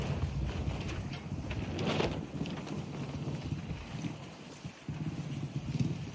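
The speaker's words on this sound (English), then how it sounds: "it's pretty windy and cold" Wind gusts outdoors on a cold day and buffets the microphone, rising and falling in rough, rumbling surges.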